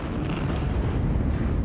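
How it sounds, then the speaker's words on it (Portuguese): German artillery bombardment in a WWII battle, heard as a dense, continuous low rumble of heavy guns and explosions that stays loud and steady without clear separate blasts. "A artilharia alemã respondeu com um ataque massivo, com uma quantidade de munição nunca usada antes"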